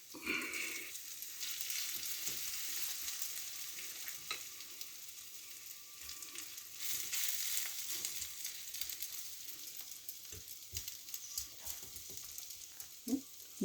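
Cabbage and egg pancake batter frying in hot oil in a pan, a steady moderate sizzle lasting throughout with occasional faint spatula taps and scrapes; no talking.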